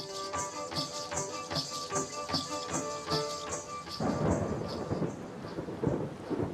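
Steady heavy rain pours down in a dense hiss of tapping drops while deep thunder rumbles and rolls beneath it, swelling louder toward the end with no voices present.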